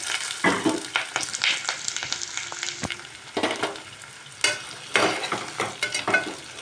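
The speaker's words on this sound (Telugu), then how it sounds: "ఇప్పుడు ఉల్లి ముక్కలు వేసుకోవాలి." Onion pieces frying in plenty of oil with fenugreek seeds for a fish curry, a close continuous sizzle with repeated scraping and clattering stirs in the pan.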